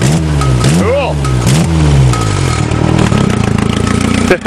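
A Nissan 200SX with a modified exhaust and a tractor-style cover over its muffler, loud close engine rumble with rising revs, while voices talk over it.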